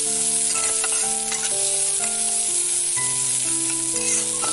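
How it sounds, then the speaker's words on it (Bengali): Chopped onion frying in oil for a village-style cauliflower dish, with a loud, steady sizzle and repeated stirring scrapes throughout, over a melodic background tune. "এবার আমি দিয়ে দেবো পেঁয়াজ কুচি, পেঁয়াজটা আমি ভালো করে লাল লাল করে ভেজে নেব।"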